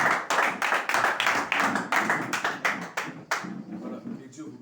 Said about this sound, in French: tu peux acclamer ton frère